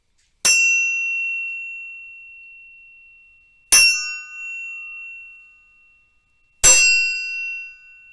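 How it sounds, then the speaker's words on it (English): A chime struck three times at slow, even intervals, each bright metallic ring sustaining with a steady tone and fading gradually toward silence before the next strike, with no other sound around it. "I'm going to ring this chime. I'm going to ring it 3 times. Listen for the sound to disappear."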